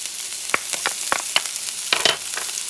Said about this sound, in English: and you're going to saute them